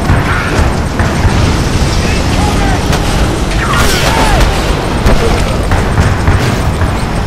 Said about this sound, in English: We've got the rockets.